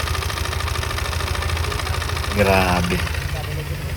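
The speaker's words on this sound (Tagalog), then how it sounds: "grabe ang tunog ng makina. Parang naghahampas ang bakal sa loob." Yamaha NMAX V2 scooter engine running with a knocking fault and worn cylinder head, a steady rattling idle with a metallic, tinny clatter, close up, with a brief spoken exclamation over it.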